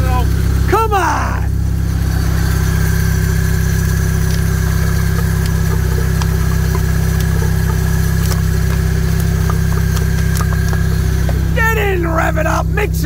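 A car engine holds a steady, loud idle throughout, with a couple of sharp revs rising and falling at the start and again near the end.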